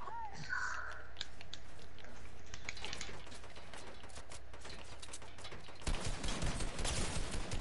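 Video game gunfire in Fortnite: a run of sharp, rapid shots as a steady, moderately loud burst, growing denser and louder toward the end, with little else over it.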